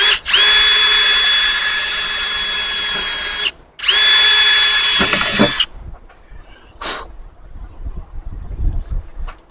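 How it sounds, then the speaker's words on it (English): A power drill whines loudly in two long steady bursts while boring holes into a truck tailgate for a Westin ladder install, followed by quieter handling clatter. "So we're just going to drill."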